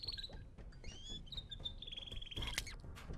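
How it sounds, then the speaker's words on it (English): A small bird chirps in the stealth video game Hitman: Blood Money, a string of high, quick tweets and warbles close by over faint background ambience. "Just tell me he's gonna shoot the bird because it's making noise."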